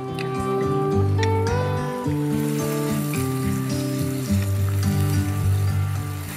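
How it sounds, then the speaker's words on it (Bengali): Chopped onions fry in a pan with a steady, close sizzle that runs through the whole stretch beneath louder background music. "আমরা এখানে পেঁয়াজটা একটু ব্রাউন করে একটু নরম হবে"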